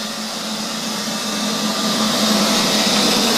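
A Neato Signature XV Pro robot vacuum cleaner runs close by with a steady broadband whir and a low motor hum, holding a constant level for a few seconds with no talking.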